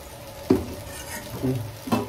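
Food seasoned with pepper is stirred in a pan: a low background sizzle broken by three distinct scraping strokes of a utensil against the pan, close and moderately loud.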